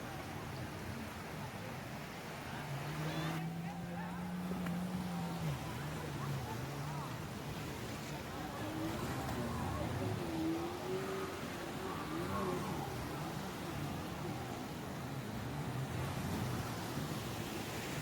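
Boat engines drone and shift pitch as vessels come and go, blended with steady surf and wind along a busy tourist beach in Pattaya.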